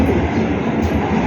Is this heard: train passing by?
yes